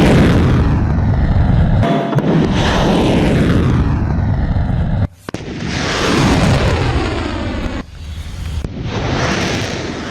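Missile strikes in a Houthi attack, heavy roaring blasts and rumbling explosions that swell and cut off abruptly in several loud bursts, with a whooshing, jet-like rush between them.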